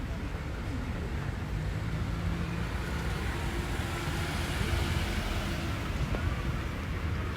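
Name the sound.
car passing by on the street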